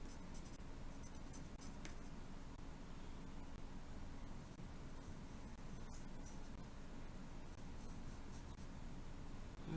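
Soft, steady scratching of a pencil across paper, continuous and quiet, with a few faint clicks and no voices.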